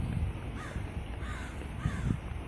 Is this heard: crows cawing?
yes